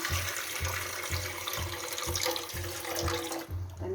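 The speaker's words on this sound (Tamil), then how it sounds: "இப்போ தண்ணி ஊற்றுறோம். சட்டியில் இட்லி சட்டி வச்சு தண்ணி" Water poured into a pot beneath an idli steamer pan on a stove, a steady close splashing rush with a faint low rhythmic pulsing underneath, running continuously and thinning out near the end.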